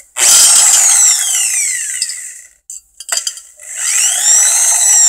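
A homemade vortex accelerator spins up slowly with a loud whirring whine whose pitch sweeps down, cuts out briefly with a few clicks and knocks, then rises again in a second whirring sweep.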